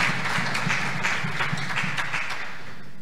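A congregation claps at a diocesan intercession and preaching congress, with rhythmic, fairly loud applause that fades toward the end, free of speech.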